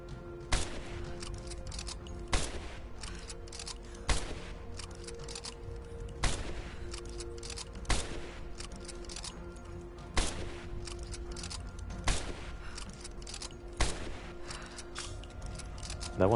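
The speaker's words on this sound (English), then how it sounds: "That one took a friggin' lot of shots." Gunshots in the action-adventure game Rise of the Tomb Raider ring out as evenly spaced single blasts roughly every two seconds, loud and sharp over a quiet ambient background.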